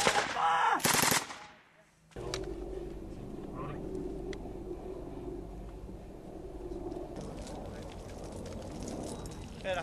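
Machine gun fire during an Australian RTF contact in Afghanistan: a loud, close burst of rapid shots early on cuts out sharply, leaving a low engine-like drone and scattered distant noise.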